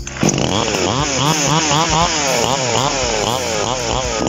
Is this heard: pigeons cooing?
no